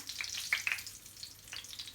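Flour-dredged marinated fish pieces sizzle and crackle in a hot pan, with soft bursts of spitting oil, close by and fairly quiet.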